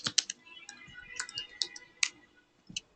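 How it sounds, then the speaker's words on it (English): Typing on a computer keyboard while writing Android code, sharp close keystrokes in short irregular bursts with quiet pauses between them. "See, I'm typing a class here."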